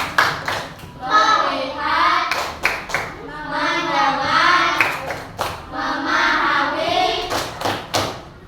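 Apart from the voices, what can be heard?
children doing a rhythmic classroom 'focus clap'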